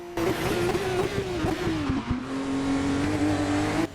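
An F2 race car engine in a racing video game howls at high revs in a steady, slightly wavering drone, with brief dips and a faint tire scrub underneath, loud and continuous throughout.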